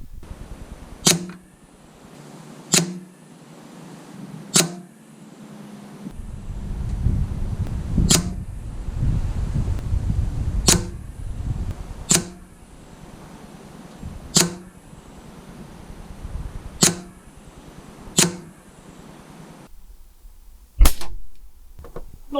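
Air rifle firing cheap Eco wadcutter pellets in five-shot groups outdoors in a breeze: about a dozen sharp, loud shots spaced a second or two apart, with faint handling and wind noise between them.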